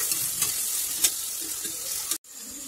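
Ginger garlic paste stirred in a frying pan for Kerala ellum kappa makes a close, even sizzle with a few spoon scrapes, then a sudden brief cut to silence before the frying resumes.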